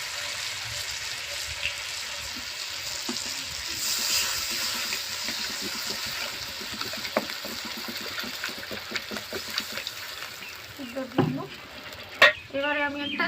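Mutton in a pot being stirred as tomato and water go in, with a steady frying sizzle and scraping stir strokes throughout, a few sharper clanks and splashes near the end.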